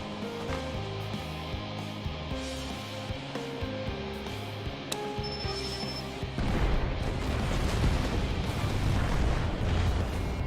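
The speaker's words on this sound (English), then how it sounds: "Damn, did I really plant that many bombs?" Rumbling explosions from bombs going off in Final Fantasy XIV, a dense roar of blasts that swells and stays loud over a musical score.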